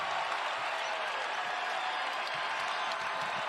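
Illinois State basketball home crowd roaring steadily during a win over Bradley, a dense sustained wall of cheering and applause filling the arena without a break.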